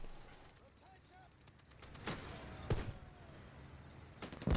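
Artillery fire in the World War II strategy game Theatre of War 2 at the Battle of Cheux, with scattered booming blasts around the middle and toward the end over faint battlefield ambience.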